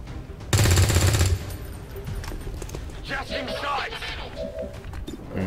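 Rapid burst of gunfire from a soldier's weapon in XCOM 2, loud and dense for about a second near the start, followed by quieter game ambience and softer effects.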